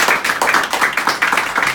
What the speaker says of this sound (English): can we give the developer Thriven a big round of applause for organizing this